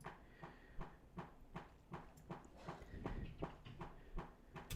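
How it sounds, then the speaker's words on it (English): A Logic Pro metronome ticks in a steady, even rhythm, each click sharp and faint at low volume, repeating about twice a second with no voices over it. "we can also change the volume and the tone of the metronome"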